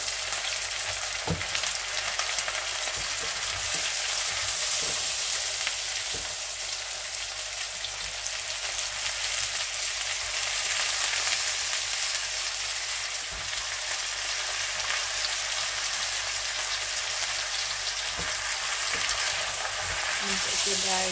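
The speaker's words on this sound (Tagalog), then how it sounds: "So, ilagay na po natin yung hipon." Shrimp sizzles steadily in a pan with onion and garlic, a dense, continuous frying crackle held close and fairly loud throughout with occasional stirring clicks.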